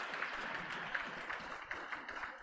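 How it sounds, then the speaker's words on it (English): Clapping from an audience in a meeting hall during a health program review session, a faint, steady patter of many hands heard from a distance, continuing evenly with no talk over it. "Please clap."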